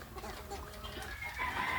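Chickens cluck and murmur close by in a steady stream, with a louder burst of calls near the end.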